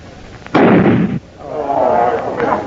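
A rifle shot aimed at gunpowder in an old Western radio drama lands as one loud blast with a rumbling tail, then a softer rushing burst follows.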